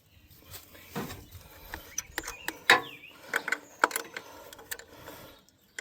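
Ratchet wrench with a 12 mm socket tightening a bolt on a vintage tractor, a 1947 Farmall A or 1954 John Deere 60, heard as quiet, scattered clicking and metallic ticks in short bursts.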